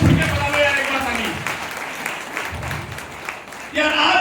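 An audience at a training seminar applauds in a continuous dense patter that fades toward the middle and then swells again near the end, with a voice speaking over it at the start.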